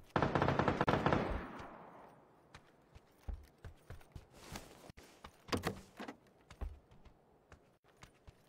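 M16 assault rifle fire in an online shooter match against bots: a loud rapid burst opens, then scattered single shots and short bursts crack at varying distances.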